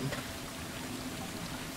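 Soft, steady rain patters in the opening of the video game Stray, a faint continuous wash of drops throughout with no clear voices.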